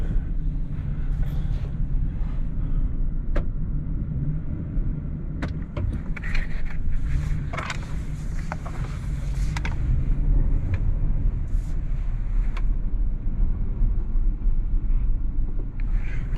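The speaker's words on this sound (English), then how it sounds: "he sold these tires because he didn't like how noisy they were" Noisy tires on a Silverado pickup hum steadily as it drives, a constant low road drone inside the cab with occasional light rattles and clicks over it.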